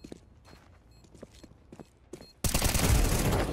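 Quiet, scattered clicks and shuffling give way to a sudden, loud, sustained burst of rapid gunfire in the video game Counter-Strike 2 that fills the rest of the clip.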